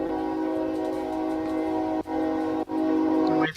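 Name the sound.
train passing and sounding its horn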